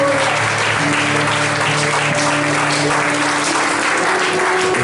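A church congregation applauds continuously, dense steady clapping from many hands filling the room throughout with no pause.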